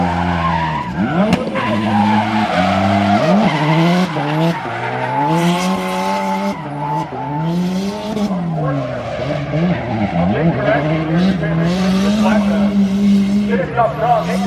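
A drift car skids through a run with sustained tire squeal and a revving engine that rises and falls, loud and close, with talking over it.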